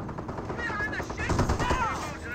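Rapid gunfire and explosive bursts from a Greyhound armored car shooting at Panzer Grenadiers in the World War II strategy game Company of Heroes, a dense, continuous battle din with overlapping voices running throughout.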